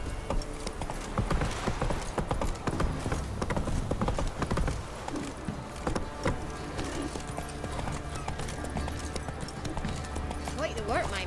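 Hooves of Roach the horse clip-clop at a gallop in The Witcher 3, a rapid steady beat under dense game music and ambience, with speech mixed in.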